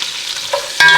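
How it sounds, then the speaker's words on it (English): Chopped onions and celery with butter sizzle loudly in hot bacon fat in a pan, a close, steady frying hiss with a stirring scrape and a brief burst near the end. "that's going to sizzle up really nicely now as that butter melts into the bacon fat"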